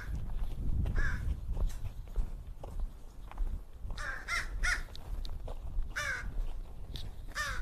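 Several crows caw in short bursts at an outdoor animal sanctuary enclosure, with harsh calls clustered toward the end, over shuffling footsteps and low handling noise nearby.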